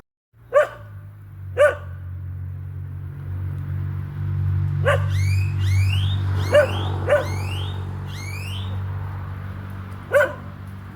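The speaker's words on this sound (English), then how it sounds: "these dogs barking from every gate it's awful" Several dogs bark from behind gates in a Mexican street, sharp single barks and short yelping runs coming at intervals at moderate distance over a steady low rumble of background noise.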